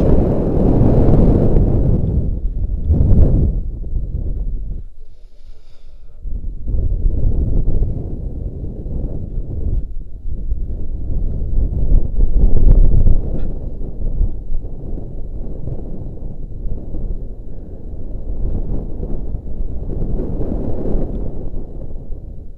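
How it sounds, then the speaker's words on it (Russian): Strong wind at about 180 m height roars and buffets loudly against the microphone, surging and easing in long gusts with a brief lull partway through. "наверху такой ветерочек бодрячий"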